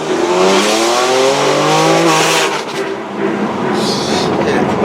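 A 565 bhp BMW M4 with a very loud exhaust revs hard, its engine note rising steadily before dropping off, close and loud, with a voice briefly heard alongside.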